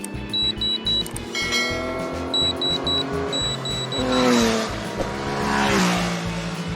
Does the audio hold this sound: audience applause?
no